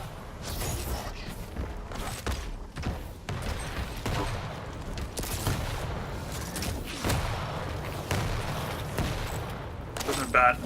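Rocket explosions and weapon fire in the arena shooter Quake Champions form a steady, dense barrage of booming blasts and sharp cracks, with scattered louder hits throughout.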